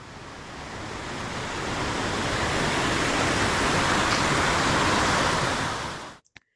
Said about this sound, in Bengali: জলের আওয়াজ শুনতে পাচ্ছেন আপনারা? এখান থেকে জল একদম নেমে আসছে। আওয়াজটা শুনুন ঝর্ণার।